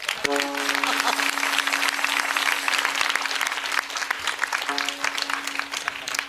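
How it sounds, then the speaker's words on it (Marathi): Loud, sustained applause from a large audience at a kirtan, dense clapping filling the whole stretch without pause. "काय ताकदीने टाळ्या वाजवल्या"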